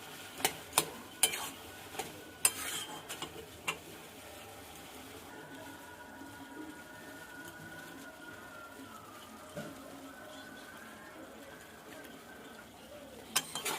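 Cabbage cooked with fish oil being stirred in a pan, soft scraping and a low sizzle with a few sharp utensil clinks near the start and end.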